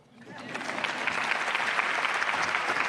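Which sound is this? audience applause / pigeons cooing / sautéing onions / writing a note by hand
audience applause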